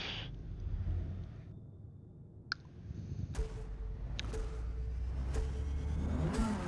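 A Datsun 510 race car starts a race at Suzuka in the Forza Motorsport video game, its engine droning and revving upward through gear changes with clicking shifts, steady and close, no talk.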